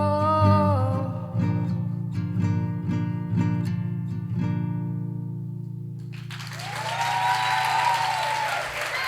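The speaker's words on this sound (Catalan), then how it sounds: "Un fort aplaudiment per a Clàudia Grau." A live talent show audience breaks into broad applause for a performer, a dense clapping wash rising after the last sustained musical notes fade, continuing steadily to the end.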